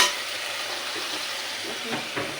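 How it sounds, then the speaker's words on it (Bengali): Ginger garlic paste frying in a pan, giving a steady close sizzle with a couple of soft stirring scrapes near the end, no one speaking. "আমি আদা রসুন পেস্ট দিয়ে দিয়েছি। পেস্টটা ভাজার পরে"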